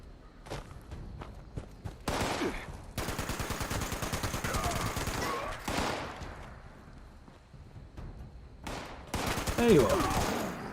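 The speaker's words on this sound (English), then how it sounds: "Heard somebody over here shooting me." Rapid bursts of automatic gunfire in the online game Fallout 76, coming in loud dense volleys with short pauses between them, mixed with a talking voice and scattered footsteps.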